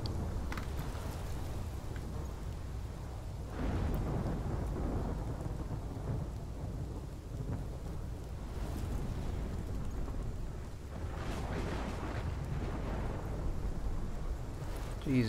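A thunderstorm in Life is Strange roars continuously, heavy rain pouring while deep thunder rolls and swells in several long waves, loud and enveloping with no voices.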